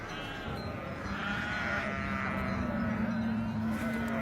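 Goats bleat in a desert caravan camp in Morocco where dromedaries are also kept, a few wavering cries standing out over a steady broadband background rumble.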